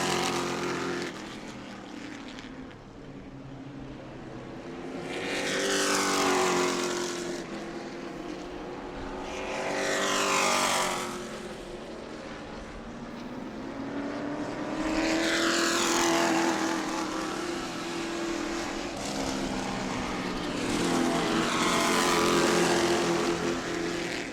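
Pro Truck race trucks circle the track during group qualifying at New Smyrna, engines swelling and fading in repeated loud pass-bys over a constant roar of the field.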